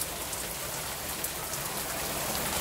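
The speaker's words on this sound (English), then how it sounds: "Raining cats and dogs" Heavy July rain pours down in Britain, a dense, steady hiss of drops drumming on surfaces, with scattered louder splashes and no other sound.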